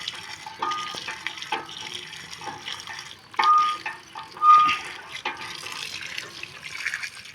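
Water from a tap splashes and trickles while something is washed by hand at a village sink, with intermittent louder gushes and faint clinks, close by.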